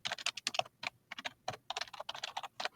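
Rapid bursts of computer keyboard typing as a file name is entered, crisp clustered keystrokes with brief pauses between runs, close and clear with no talk.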